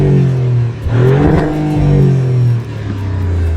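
A Maserati GranTurismo Trofeo petrol engine revving hard, loud and close, with two strong rises in engine pitch separated by a brief dip, heard alone with no talking.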